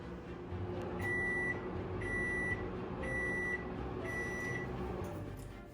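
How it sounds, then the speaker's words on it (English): A microwave oven finishing a cup of Easy Mac gives four evenly spaced, clear beeps about a second apart over a steady humming drone, close by, with no talking. "My microwave has beeped, indicating the food is ready"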